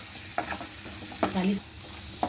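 Skin-on potato pieces drop into a pan of frying cashews, a steady sizzle punctuated by a few sharp stirring scrapes and clatters, close up.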